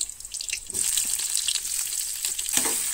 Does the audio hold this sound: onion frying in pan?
yes